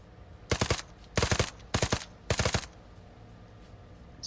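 Automatic weapon fire in the military shooter Arma 3, with four sharp, rapid bursts spaced roughly evenly apart, each a quick rattle of several shots, loud against a quiet background.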